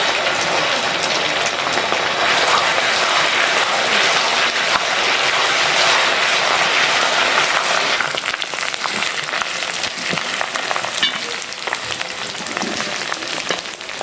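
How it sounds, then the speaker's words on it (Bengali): Steady, loud sizzling and crackling of spices and ginger-garlic paste frying in hot oil, a dense hiss that continues without pause. No voices. "এটা একটু তেলে ভাজা ভাজা করে নিই"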